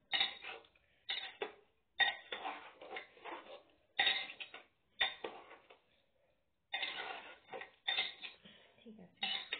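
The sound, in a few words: mixing biryani in a pot with a utensil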